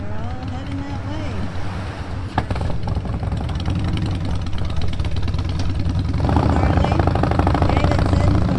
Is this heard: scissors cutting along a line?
no